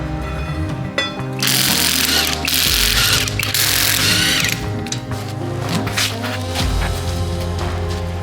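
Loud ratcheting and mechanical whirring as the wheels and tires come off a restored Toyota Land Cruiser 80, a sustained burst in the middle over a busy workshop background.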